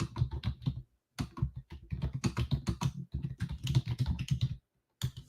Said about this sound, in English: I'm just going to be typing stuff in our private thing as well as we're going.